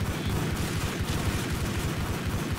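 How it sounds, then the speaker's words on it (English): Gunfire in a Max Payne shootout, a dense, continuous barrage of rapid shots crackling loudly throughout. "you're getting shot at"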